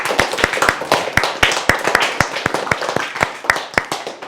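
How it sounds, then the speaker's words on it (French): A classroom audience of students claps loudly for a pupil, a dense burst of many hands with sharp individual slaps standing out, sustained evenly throughout without any voices. "on applaudit très fort"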